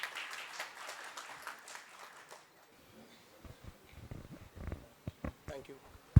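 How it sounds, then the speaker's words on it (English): At a professional branch gathering, an audience bursts into dense applause that fades after a couple of seconds, giving way to scattered knocks and quieter room noise. "Huge round of applause to Arpit sir."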